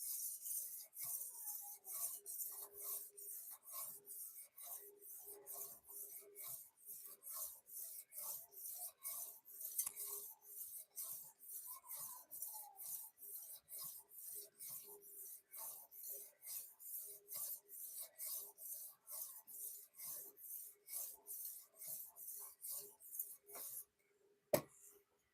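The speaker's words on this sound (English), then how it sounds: "We'll run on the strop, and we're going to wrap this thing up." A knife blade run back and forth on a strop, producing a long even series of soft rhythmic swishing strokes, about two per second, faint and close, ending with a single sharp knock.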